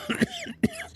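A person coughs in a short cluster of harsh, throaty bursts, close to the microphone.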